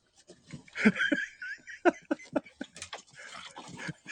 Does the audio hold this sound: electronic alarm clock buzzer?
no